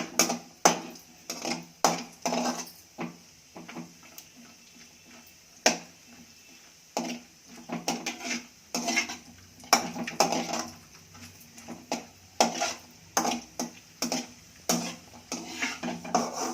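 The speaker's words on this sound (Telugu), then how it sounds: "జీడిపప్పు వేసి కొంచెం వేయించుకుందాము." Cashew nuts roasting in a pan over a medium flame, with irregular clinks and scrapes as they are stirred and tossed against the metal, close and fairly loud.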